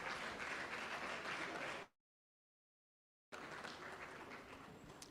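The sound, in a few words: audience applause at a judges' banking seminar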